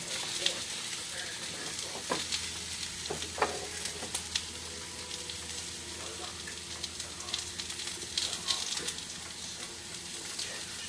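Apples fry and sizzle in a pot with a steady, close hiss and a few scattered stirring clinks.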